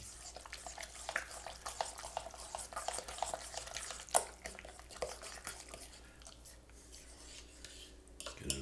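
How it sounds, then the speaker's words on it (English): Spoon stirring a tuna salad of tuna, mayonnaise and vegetables in a bowl gives soft, close, wet squelching and scraping, with a brief clink against the bowl, continuing quietly without talk. "Mix everything together."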